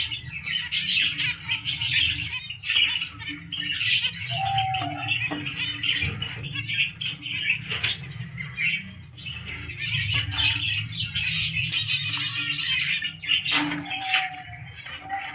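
Caged common finches chirp and twitter continuously at a busy outdoor bird market, many small birds calling at once over a low background rumble of crowd and traffic.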